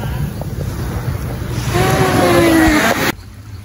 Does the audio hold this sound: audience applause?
no